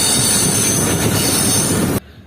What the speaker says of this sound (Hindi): इस वक्त ट्रेन हमारी रेत के ऊपर चल रही है।